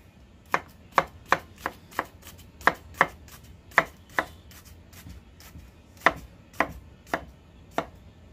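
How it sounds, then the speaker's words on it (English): A sharp knife chops through an onion on a board, giving a series of crisp, evenly spaced cuts close by with short pauses between them and no voices. "See? The knife cuts."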